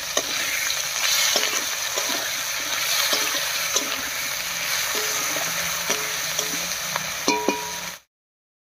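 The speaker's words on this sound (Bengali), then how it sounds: "আলুটা ভাজা ভাজা হয়ে গেছে, এবারে বাটা মশলাগুলো দেবো সব। দিয়ে দিচ্ছি আদা বাটা, জিরা বাটা, শুকনো লঙ্কা বাটা, আর দেবো সামান্য একটু পেঁয়াজ বাটা।" Fried potatoes sizzle in a pan as ginger, cumin, dry chilli and onion pastes are stirred in. The crackle is steady and close, with intermittent scraping and clinking of a spatula, and it ends abruptly.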